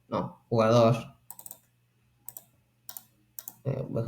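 Sharp, isolated computer mouse clicks sound while working in database software, several quick taps spaced apart between stretches of someone speaking Spanish close to the microphone.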